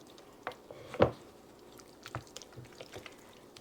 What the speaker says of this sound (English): We stir this all up so good. Mix it all in nice.